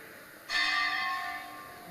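Temple bells ringing during a scripture class, a sudden metallic ring with bright sustained overtones that starts after a brief quiet moment and slowly fades, heard alone.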